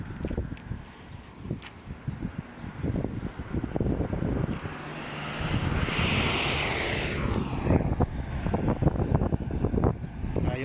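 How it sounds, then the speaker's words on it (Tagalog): Strong wind roars and buffets the microphone in gusts amid dense fog in Dammam, with a rushing surf-like wash building in the middle of the clip. "Ang lakas pa ng hangin."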